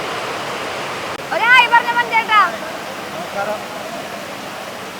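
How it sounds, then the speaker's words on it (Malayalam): Heavy rain pours down as a continuous dense roar, loud and close, while a person speaks briefly over it for a second or so. "ഗംഭീര മഴയാണ്."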